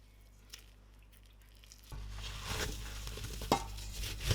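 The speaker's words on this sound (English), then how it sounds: "I cooked the rhubarb down with coconut sugar and lime juice" Rhubarb cooking down with coconut sugar and lime juice in a pot, a quiet bubbling sizzle that starts abruptly partway through with occasional stirring clinks, steady and close, with no voices.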